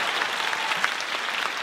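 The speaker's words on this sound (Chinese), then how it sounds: "感谢大家的掌声" Steady applause from a live audience at a Taipei crossover comedy show, dense even clapping filling the whole moment at moderate loudness without pause.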